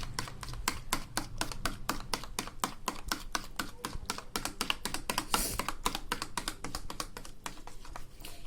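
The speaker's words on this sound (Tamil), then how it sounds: "வெறும் எல்லோ மட்டும்தான் இது, இதையும் பீட் பண்ணிக்கிறேன்." Egg yolks alone are whisked briskly in a bowl for a fluffy cheese omelette. Rapid, even clicking taps of the utensil against the bowl run steadily and close throughout, with no voices.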